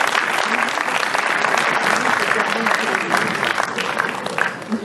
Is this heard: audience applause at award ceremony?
yes